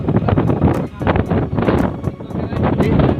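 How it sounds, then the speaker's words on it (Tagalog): Strong gusting wind at Panguil Bay Bridge in northern Mindanao, buffeting the microphone in loud, rumbling surges that rise and dip over a few seconds with no clear pause. "Guys, sobrang lakas ang hangin"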